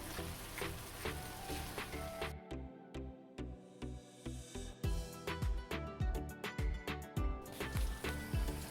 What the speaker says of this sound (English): We have to cook this mixture.